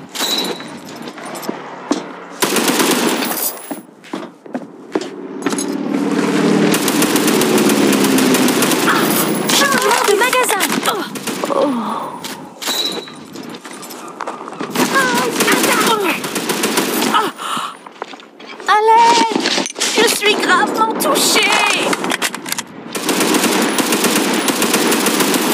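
An MG30 machine gun fires in the video game World War Heroes, with loud, rapid bursts broken by short pauses across the scene. A voice and other game sounds come in between the volleys.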